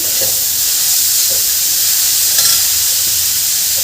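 Grated carrot halwa mixture being sautéed in a pan on medium gas, a loud, steady hiss of frying with faint stirring scrapes throughout and no speech.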